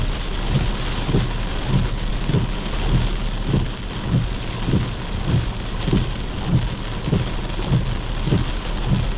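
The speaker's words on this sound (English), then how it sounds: "We're just kind of sending this line of thunderstorms out." Heavy rain pours steadily during a thunderstorm line moving through northern Iowa, a dense continuous hiss with low rumbling pulses repeating underneath, no voices.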